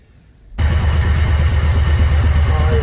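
A 1969 Chevrolet Chevelle SS engine catches and settles into a loud, close, lumpy idle with a deep pulsing rumble after a short quiet start, running steadily to the end.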